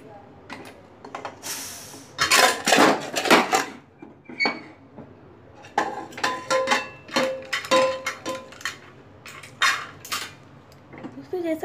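A pressure cooker holding cooked chana dal is opened after several whistles, with bursts of hissing release and metallic clanks and scrapes of the lid and pot, close and intermittent.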